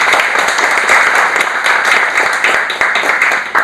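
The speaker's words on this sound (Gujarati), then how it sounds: "આપણે જોરદાર તાળીઓથી વધાવીએ।" A hall audience at a Southern Gujarat Chamber of Commerce seminar gives loud, sustained applause welcoming the newly elected president, dense overlapping claps filling the space steadily.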